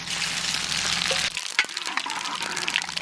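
Bay leaf and whole cumin crackle as they hit hot oil left from frying katla fish in a village kitchen, a loud dense sizzle that drops suddenly and then goes on as softer spattering with sharp pops.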